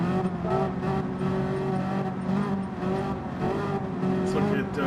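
A Ferrari race car roars continuously through a Gran Turismo 7 daily race, with sustained engine drone, shifting pitch and occasional tire squeal, loud and steady throughout.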